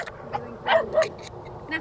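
Hungry stray dogs by a roadside give short yips and whimpering barks in a few quick bursts, moderately close, with faint traffic-like background noise.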